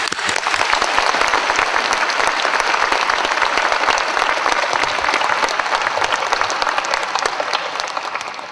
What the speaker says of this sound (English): please give a warm round of applause to 청년사 Publishing Company and Mr.